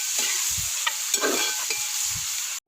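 Sliced onions sauté in a pan with a faint steady sizzle, stirred with a spoon that gives a few soft scrapes and knocks close by, and one loud clunk right at the end.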